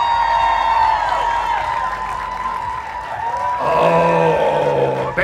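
Sustained crowd noise from a festival audience at the Kosmonaut Festival, applauding and cheering for a candidate, dense and steady throughout with a swell toward the end and music or voices mixed in underneath.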